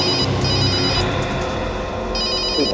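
A telephone rings loudly and close by in a tense crime drama scene, its bright electronic ring repeating in steady bursts with a brief pause in the middle.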